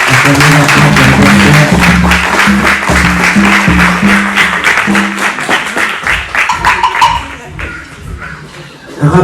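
A church congregation claps and cheers at a Sunday service, loud sustained applause mixed with voices and some music, slowly thinning out toward the end.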